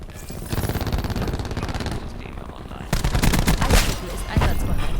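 Rapid automatic gunfire in Black Ops 4 on the Nuketown map, loud dense bursts with a short lull near the middle, under occasional talk.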